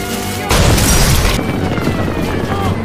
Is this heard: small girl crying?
no